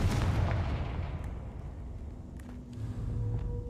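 Confringo explosive spell cast in the video game Hogwarts Legacy, a loud deep blast with a rumbling low tail that fades over a few seconds.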